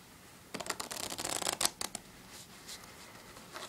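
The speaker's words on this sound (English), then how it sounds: "And I'm going to shuffle the cards together so they are face up and face down." A deck of playing cards is riffle-shuffled close up, split into face-up and face-down halves, with a quick flurry of crisp rapid flutters, a snap as the halves bridge together, then quieter soft card handling.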